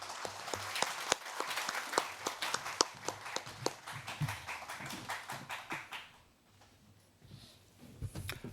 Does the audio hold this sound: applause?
yes